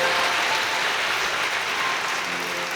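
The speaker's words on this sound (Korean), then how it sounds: "우리 박수로 축하하겠습니다." Crowd applause during a wedding ceremony at a church, a dense, steady clatter of many hands clapping at once, moderately loud and continuous throughout with no voices over it.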